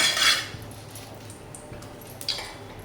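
A utensil scrapes and clinks in a pan of cloves and cardamom frying in ghee, faint and close, with a stronger burst at the start and another near the end.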